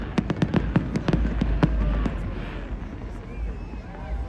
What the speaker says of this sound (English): Oh, these are all the fireworks they have.